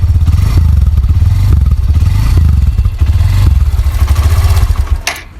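A Hero Xtreme 125R motorcycle engine runs loud and close with a steady, throbbing low idle pulse, then cuts off abruptly near the end.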